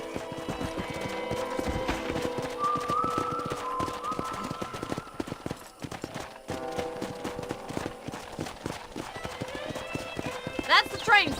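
Horse hooves clip-clop at a steady trot in the Red Dead Redemption video game, with a whinny and western background music while characters talk over the riding.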